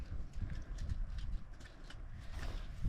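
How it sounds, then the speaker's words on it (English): Cows walk down a footpath toward the Cornish coast near Land's End, their hooves making an irregular, steady clopping. The steps sound fairly close and moderately quiet over low outdoor rumble. "Cows are walking down the path."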